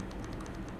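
Computer keyboard keys tapped during After Effects work, several quick, faint clicks spread across a low hum, with no voices.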